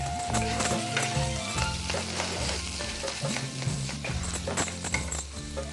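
Boiled potato pieces are stirred through a hot frying pan, a steady scraping and light sizzle running continuously under background music, with no talk.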